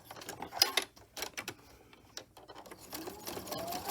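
A sewing machine stitches the sides of a rosemary and balsam fir herb sachet in short, uneven bursts with brief pauses, close and moderately loud, with no talking.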